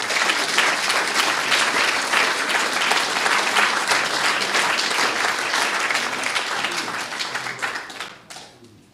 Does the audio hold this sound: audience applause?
yes